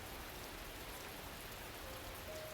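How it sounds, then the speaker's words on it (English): Steady rain from a Grisaia visual novel, a continuous even hiss of drops falling on surfaces with no letup, nearby and moderately soft, with no voices over it. "The rain shows no sign of letting up."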